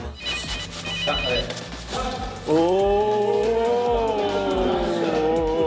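A telephone rings repeatedly with a bright electronic trill while music plays beneath, the ringing loud and close.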